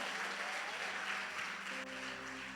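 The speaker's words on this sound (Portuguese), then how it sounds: "Então aplaude ao Senhor." Congregation clapping in praise during a church service, a dense continuous patter of hands under a sustained organ or keyboard chord, fairly faint and steady.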